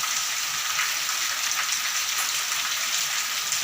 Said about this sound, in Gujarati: જો આ ધોધમાર વરસાદ એમ માનો કે પંદરથી વીસ મિનિટ ચાલુ થઈ ગઈ છે